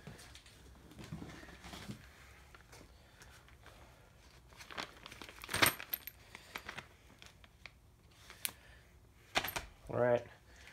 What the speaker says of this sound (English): get a bag for all these bolts for it. Actually, 2 bolts and a nut and a washer